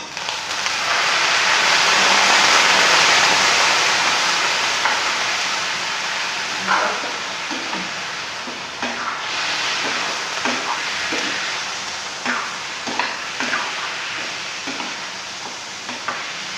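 Garlic sizzling steadily in a hot pan, a loud continuous fry with scattered scraping and clinking as it is stirred, no voices.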